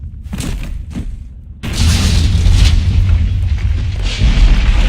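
A heavy booming explosion from the video game Batman: The Telltale Series erupts and rumbles on, loud and sustained, after a few softer thuds, with a dense low roar filling the rest.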